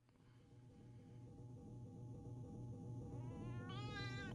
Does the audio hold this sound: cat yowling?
yes